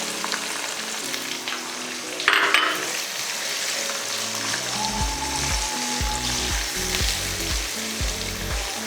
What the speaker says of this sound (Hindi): फिर उस पर इसको जल्दी जल्दी फ्राई करेंगे हम